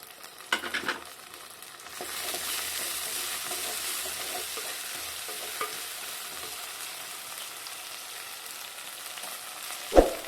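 Onions sizzle in a clay pot with dried red chilies and curry leaves for Pallipalayam chicken; after a few light knocks a steady, moderate frying hiss sets in and runs on alone, ending with a sharp utensil clack.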